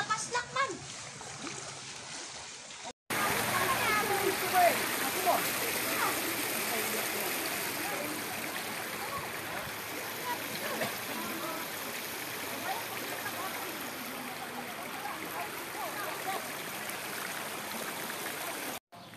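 Floodwater rushes after continuous heavy rain, a broad, steady roar of flowing water heard up close that fills the scene after a short opening stretch, with faint voices in the background.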